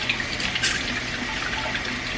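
Tap water runs steadily into a sink while freshly churned homemade butter is rinsed under it, a continuous close splashing hiss with no talking.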